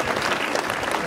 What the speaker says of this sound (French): Merci d'applaudir nos musiciens.